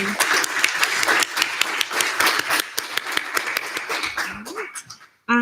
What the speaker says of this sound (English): So give a round of applause for Peter and President Greenaway.